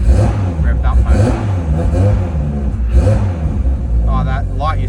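A Toyota Supra's engine revs and pulls while driving, a loud throaty rumble rising and falling under a voice talking close to the microphone.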